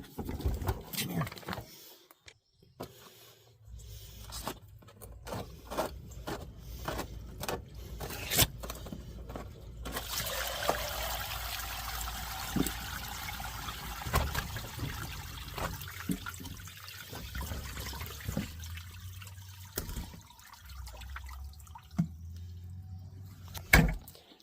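A Craftsman wet vac dumping out its load of water, a rushing, splashing pour in the middle stretch, framed by clunks, knocks and handling noises, with someone talking intermittently around it.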